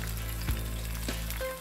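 Lamb chops frying in hot oil until golden and crisp, with a loud, continuous crackling sizzle over a low background hum. A couple of soft utensil knocks come through, close and without speech.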